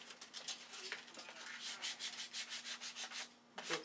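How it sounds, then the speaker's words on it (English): Sandpaper rubbed back and forth to clean up an edge of Bondo body filler, a close, rhythmic scratchy rasp in repeated strokes with a steady faint hum underneath, no voices. "Sandpaper, clean the edge up,"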